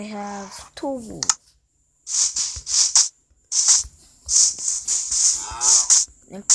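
Cows mooing in Minecraft Pocket Edition, several short repeated game moos in quick bursts following a brief stretch of a person talking.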